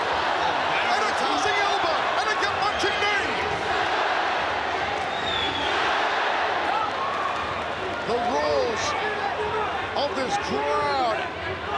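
Dense, roaring crowd at a ONE Championship Muay Thai fight featuring Nong-O, loud and sustained across the whole stretch with whistles and shouts rising above it and a commentator's voice mixed in.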